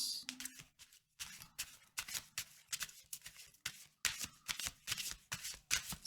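Lenormand cards shuffled by hand in quick rhythmic bursts of riffling and sliding, close and fairly quiet, with short pauses between passes.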